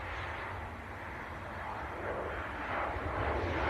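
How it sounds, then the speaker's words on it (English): A Ryanair Boeing 737-800 airliner at Leeds Bradford Airport: a steady, broad jet engine roar at moderate distance, slowly growing louder over a few seconds, with no voices. "Ryanair 737-800"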